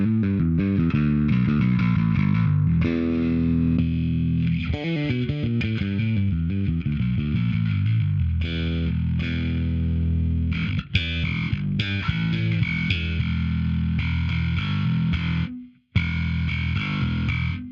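Bass guitar runs through a Darkglass Electronics Anagram effects unit in a distorted, chorus-tinged tone, with steady sustained chords and fast note runs, loud and close with no talking, plus a brief dropout near the end.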